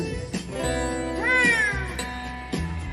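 A cat meows several times, one long rising and falling wail in the middle and shorter calls around it, heard close and fairly loud over a faint background.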